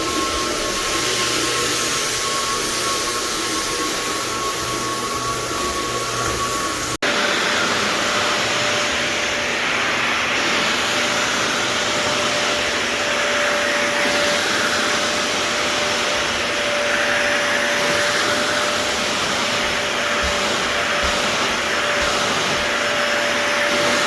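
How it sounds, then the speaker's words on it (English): A floor buffer abrades a hardwood floor with a loud, steady motor drone and whir that carries on without a break, shifting slightly in tone partway through. "now that we have abraded the floors"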